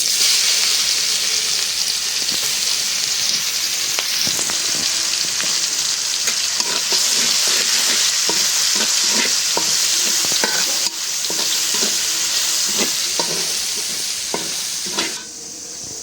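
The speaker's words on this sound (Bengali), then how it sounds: "এখন দিয়ে দেবো এই যে রসুনটা ছেঁচে দিচ্ছি" Loud, steady sizzling of crushed garlic and chilies frying in hot mustard oil with occasional stirring scrapes, continuous throughout and close by.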